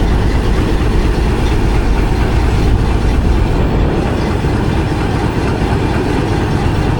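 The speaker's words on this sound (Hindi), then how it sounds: "एक दिन में दूसरा लोकोमोटिव आपने देखा है जो रुख तब्दील कर रहा है।" Locomotive changing direction at Attock City Junction in hot weather, a loud, steady low diesel rumble idling close by, unbroken throughout with no talk.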